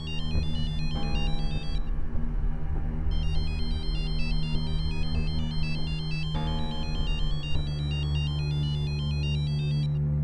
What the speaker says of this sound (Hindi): रीता का फोन है।